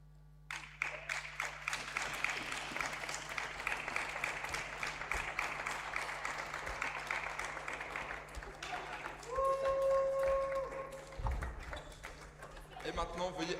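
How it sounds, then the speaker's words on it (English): Applause from a crowd welcoming the German women's team at a Euro 2026 event, a sustained patter of many hands with a public address announcer talking over it and a tonal chime near the end. "Und jetzt ein großes Beifall für die Mannschaft von Deutschland."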